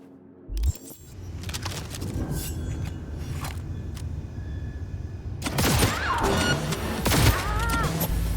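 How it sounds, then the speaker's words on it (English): Gunfire in the video game Cyberpunk 2077: a sharp burst early on, then a louder cluster of crackling shots with clattering debris over a steady background hum. "Heard shots."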